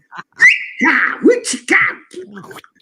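A voice actor imitates a big rodeo whistle, with several loud sliding whistles and whoops in quick succession, close and alone.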